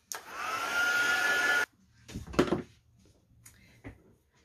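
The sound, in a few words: heat tool drying ink on a card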